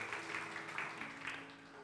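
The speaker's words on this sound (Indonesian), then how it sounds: "Beri tepuk tangan yang terbaik buat Tuhan kita" Church congregation clapping in praise during an Indonesian worship service, a rhythmic, pulsing applause with regular beats roughly every half second over a low sustained musical hum.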